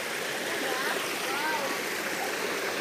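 Cold spring-fed river water flows steadily in the Tinipak River near Mt. Daraitan, a continuous broadband rush with faint voices in the background.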